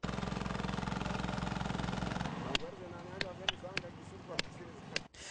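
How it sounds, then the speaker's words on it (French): Heavy construction machinery engines roaring with a loud, steady pulsing drone that cuts off partway, leaving a quieter background of clanks and thuds under faint voices. "Place maintenant au vrombissement des moteurs des gros engins de construction."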